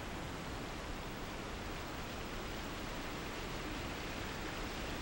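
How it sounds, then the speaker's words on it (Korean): Iguazu Falls pours in a dense, unbroken roar of rushing water that fills the whole soundscape evenly and steadily, with no voices heard. "세차게 흐르는 물 바로 위에 세워진 다리는 폭포의 위력을 그대로 전해준다"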